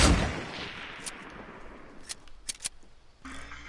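Gunshots in a wild west video game: a loud opening blast decaying into echo, followed by several sharp, quieter cracks spaced irregularly over a few seconds.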